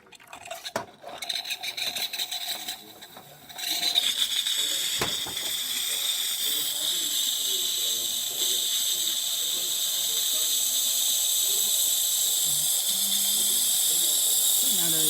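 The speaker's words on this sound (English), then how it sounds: "And now we're gonna use the steamer." A DeLonghi Magnifica espresso machine's steam wand, just serviced after a steamer fault, opens with clunks and clatter, then settles into a loud, steady hiss that holds to the end.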